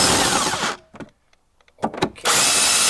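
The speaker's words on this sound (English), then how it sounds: "now I use my electric impact driver" An electric impact driver working on a bolt by a Toyota Prius XW20 12V battery, loud close whirring bursts with a short quiet gap holding a few knocks and clicks, then whirring again.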